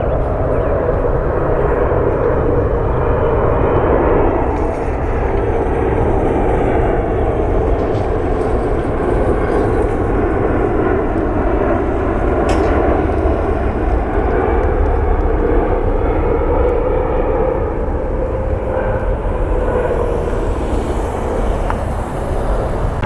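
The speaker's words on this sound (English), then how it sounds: "United 933, 777-200 inbound from Frankfurt." A United Airlines Boeing 777-200 inbound from Frankfurt arrives at Washington Dulles, its jet engines producing a loud, steady roar that stays broad and continuous throughout.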